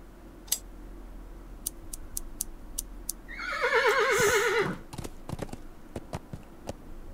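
A horse in the point-and-click adventure game Willy Morgan whinnies once with a loud, quavering neigh in the middle, amid sparse clicking and ticking sounds before and after.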